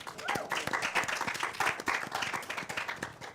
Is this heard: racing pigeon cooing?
no